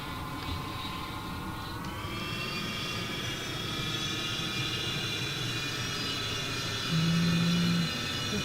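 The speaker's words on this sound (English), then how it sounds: "we just took off and we're climbing away" A B-47E jet bomber in Flight Simulator X climbing away after takeoff, its engines producing a steady, even roar with a high whine layered on top, continuous and moderately loud throughout with no voices.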